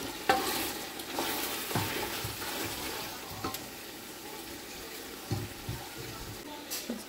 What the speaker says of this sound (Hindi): इसको अच्छे से मिक्स कर दूँ।